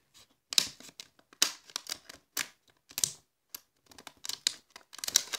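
A Pokémon booster pack's foil wrapper is picked and torn open in short, sharp, crisp crackles separated by quiet gaps, close and fairly loud, with no talking.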